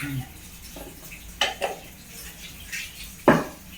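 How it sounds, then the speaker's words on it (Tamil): Mustard seeds tipped into hot tempering for sambar, heard as a few distinct metallic clinks and scrapes of a utensil against the pan over a quiet background. "இப்போ சாம்பாரை நம்ம தாளிச்சு விட்ருவோம். அது கொஞ்சம் கடுகு போட்டுக்கிடுவோம்."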